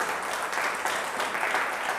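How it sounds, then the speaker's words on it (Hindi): A congregation at a church worship service claps loudly and steadily, a thick continuous wash of many hands close around, with no voices on top. "आइए जोरदार ताली से हम परमेश्वर को धन्यवाद दें"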